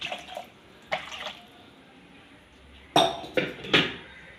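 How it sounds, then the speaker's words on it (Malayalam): Short splashy bursts of water being poured into a blender jar, two brief pours then three quicker ones, close and fairly quiet. "കുറച്ചുകൂടി വെള്ളം അതിലേക്ക് ഒഴിച്ചു കൊടുക്കാം"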